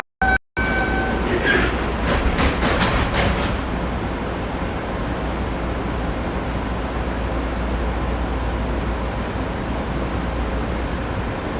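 An MBTA subway train rolls past with a loud, continuous rumble and rail clatter after a brief sharp burst at the start, staying dense and unbroken to the end.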